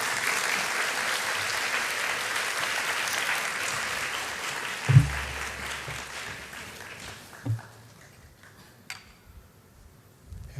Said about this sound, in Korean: 우리 목사님 올라오실 때 따뜻한 박수로 맞이해 주시기 바랍니다.